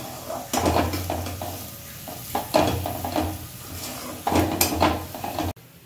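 Spinach dal being stirred after coriander powder is added: repeated scraping strokes of a spoon against the pot, bursts of stirring over a steady sizzle, close and fairly loud, ending abruptly.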